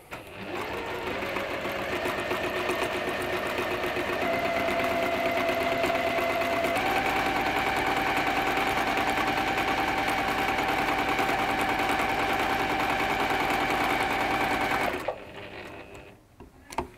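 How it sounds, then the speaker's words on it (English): Sewing machine running steadily on bias-cut fabric, stitching a quarter-inch seam alongside a marked line; a continuous close mechanical whir that shifts pitch slightly midway, then stops near the end. "we're going to sew quarter of an inch either side of this line."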